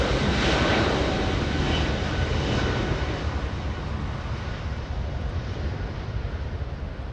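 Jet engines of an arriving airliner, GE90 turbofans, at Los Angeles International Airport: a loud, steady broadband roar that starts strongest and eases only slightly, close by with no talk.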